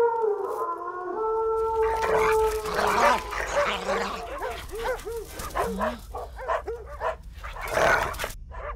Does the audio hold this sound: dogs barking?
yes